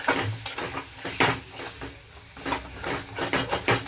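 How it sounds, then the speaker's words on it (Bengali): Garam masala spices are stirred in a cooking pan for an egg poach curry, making repeated close scraping strokes of a spoon with a light sizzle in an uneven rhythm. "দিয়ে ভালো করে নাড়াচাড়া করে নেবো একদম সুন্দর করে এভাবেই নাড়াচাড়া করে নেব"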